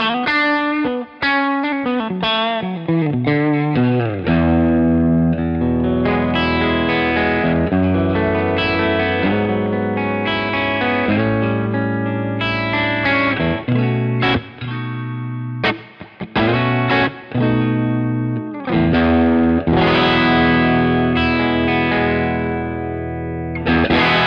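An electric guitar plays through a ToneX Silver Pro Dirty amp with reverb, giving loud distorted chords and sustained notes in a continuous riff with brief gaps, and no talking.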